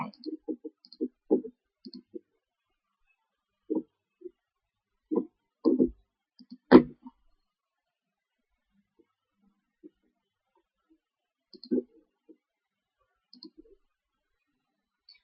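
Mouse clicks while selecting images on a website, sounding as scattered, sharp, close clicks, single or in quick pairs, spaced irregularly over near silence.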